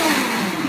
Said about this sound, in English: all I'm doing is blending that up to make the banana nice and smooth